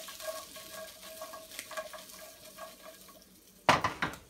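Brussels sprouts fry gently in oil in a pan with a faint steady sizzle, then a sudden loud rattling shake of the pan near the end.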